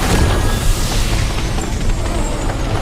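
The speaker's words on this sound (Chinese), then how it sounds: "得在兽潮到达之前轰开这堆乱石" In an animated fantasy scene, a blast breaks open a pile of rocks with a dense, loud, continuous roaring rumble that fills the short moment without a break.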